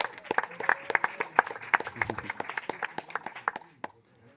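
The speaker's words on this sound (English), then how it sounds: "A quick round of applause for our brother Shamiul" A smallish audience gives quick applause at a discussion session on protest and policy, a sparse patter of distinct hand claps that thins out and stops after about four seconds.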